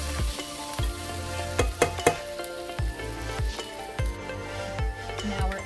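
Crushed habanero pepper simmering and sizzling in a pan for Jamaican beef patties, a steady frying hiss broken by repeated scraping knocks of a spoon stirring against the pan.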